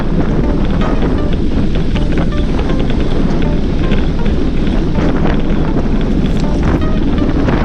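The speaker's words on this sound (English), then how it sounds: "You can hear the wind." Heavy wind buffets the microphone while a group of cyclists rides slightly downhill on a road, a loud, continuous roar that fills the whole stretch with no talking.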